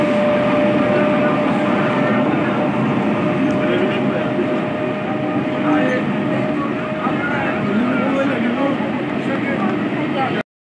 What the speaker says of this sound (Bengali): আর এইদিকে দেখো আমি আর মা এখন বসে আছি ট্রেনের মধ্যে